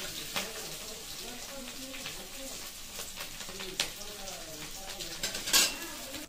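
Fried jackfruit pieces lifted out of hot oil in a home kitchen, with steady sizzling, a few metal clinks of a spoon against the pan and brief louder scrapes, while a voice talks over it.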